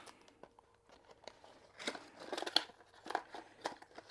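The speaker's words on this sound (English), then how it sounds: "Let's peel it off." Soft crinkling and tearing of a small cardboard box being peeled open by hand, a few scattered rips and scrapes that build toward the end, close and quiet with no speech.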